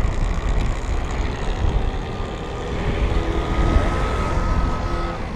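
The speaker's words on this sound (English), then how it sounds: "mid-drives tend to be a little bit noisier just because you've got the gears right there and extra chains moving around" An M55 Terminus e-bike with a mid-drive motor running under pedal assist, a steady loud whirring drone with a faint rising whine, mixed with road and wind rumble, no speech.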